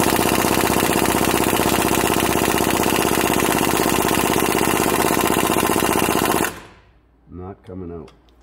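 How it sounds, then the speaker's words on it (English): A loud pneumatic impact gun hammers continuously at 18 mm wheel bearing bolts on a 2010 Ford F150 through a universal joint and extension, running steadily for about six seconds before cutting off, followed by brief talk. "so I'm going to use an impact gun and a flex"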